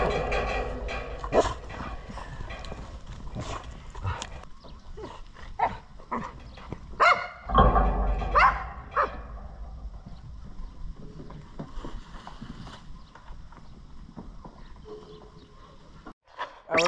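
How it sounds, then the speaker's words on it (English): A dog barks at sheep in scattered bursts outdoors, moderately close, over wind and background rumble. "Eva, quit barking at the sheep."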